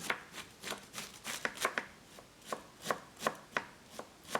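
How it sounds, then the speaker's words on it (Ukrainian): A knife slices rapidly through cabbage on a board, a steady run of crisp, close chopping strokes with no talking. "А цю капусту дуже тоненько нарізаю."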